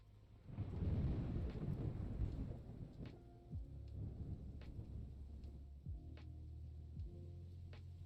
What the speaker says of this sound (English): if the sound of thunder bothers you, let me know and I will find a different rain sound